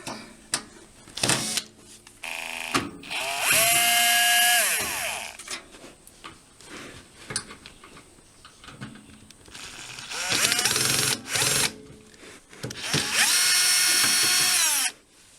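A power screwdriver backs screws out of a Samsung NG 32F combination microwave and grill oven, several whirring bursts of a few seconds each, close and loud, separated by clicks and handling noise.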